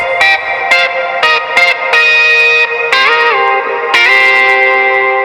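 Electric guitar with a heavy reverb wash, chords ringing out and sustaining between sharp strummed attacks, loud and close with no voices.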